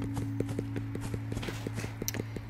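Horse hooves clip-clop in a steady, even walking rhythm in the mobile video game Equestrian the Game, on a starry night ride, with a constant low musical hum underneath.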